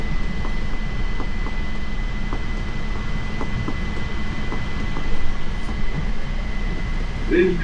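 Interior rumble of a JFK AirTrain car running between airline terminals, a steady low hum with faint rhythmic clicks of the track, continuous and moderately loud throughout.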